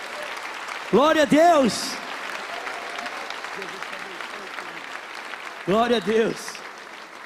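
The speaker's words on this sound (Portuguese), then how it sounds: "vamos aplaudir o Senhor por essas vidas aqui" A church congregation applauds the Lord during a Christian worship service, a low steady clapping bed running under a voice that twice rings out loud and drawn out.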